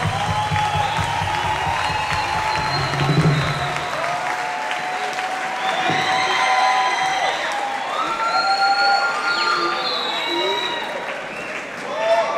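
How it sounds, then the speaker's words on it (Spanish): Loud audience applause and cheering at a quinceañera concert, dense clapping with whoops and children shouting, with amplified speech and music-like tones mixed in over the crowd. "Por este lado, por favor, recíbanlos con un fuerte aplauso"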